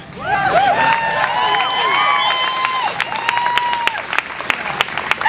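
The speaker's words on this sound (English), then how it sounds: "you guys can clap all you want" A crowd at a comedy show claps with sharp, scattered hand strikes while voices whoop and shout over it, the cheering loud and close at first and the clapping thinning into sparse individual claps toward the end.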